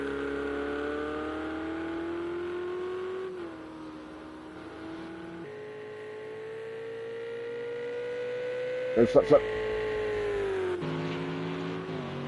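A Ferrari GT3 race car engine in a racing video game at Spa holds a steady, high droning note, shifting pitch slightly, with a quick gear-change burst near the end; a voice speaks briefly.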